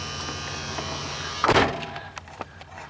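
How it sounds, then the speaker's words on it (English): A truck cab door on a 1996 Ram 2500 with a 5.9 engine swings shut with one firm thunk near the microphone, followed by a few faint rattles and clicks inside the quiet cab. "Close the door."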